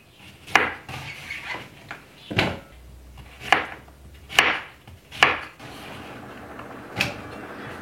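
A knife chops zucchini into pieces on a board, about seven sharp knocks at uneven intervals, close and clear with no voices.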